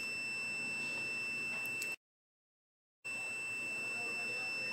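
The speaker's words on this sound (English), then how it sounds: "may long beep po siya" A multimeter's continuity test on a fuse in an amplified mixer sounds a steady, high-pitched beep. The tone holds for about two seconds, breaks off into silence, then resumes at a fainter level.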